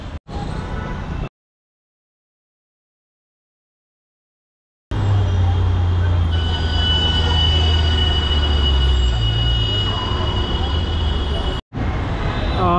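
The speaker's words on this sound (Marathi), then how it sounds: "आपण जाऊया कोरलबाग मेट्रो स्टेशनला आणि तिथनं मेट्रो पकडू।" A Delhi metro train near Karol Bagh station rumbles loudly, with wheel squeal and a high sustained whine; the sound cuts to silence for several seconds, then returns as continuous, close, heavy rail noise.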